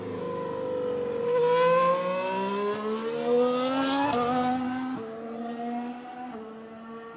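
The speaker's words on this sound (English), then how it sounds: "Here we go, there's Rosberg's Mercedes." A 2015 Mercedes Formula 1 car at Jerez pre-season testing screams past, its loud, high-pitched turbo hybrid engine rising through the gears with shifts, then dropping in pitch as it moves away.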